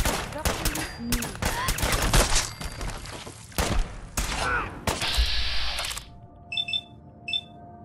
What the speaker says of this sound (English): someone's shooting through from there